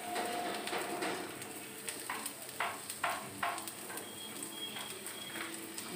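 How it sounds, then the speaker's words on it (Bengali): Chopped onions sizzle in hot mustard oil, a steady hiss of frying with soft scraping and stirring taps on top. "সরিষার তেল দিলাম, দিলাম বেশ কিছু পেঁয়াজ কুচি"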